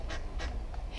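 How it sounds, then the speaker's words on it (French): A duck at a city park in Lyon calls out a few times in quick, short bursts, fairly close, over a steady low rumble of outdoor background noise. "Regardez où il est le canard."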